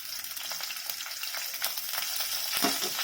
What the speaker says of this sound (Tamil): அடுத்து வெங்காயத்தை போட்டுடலாம்.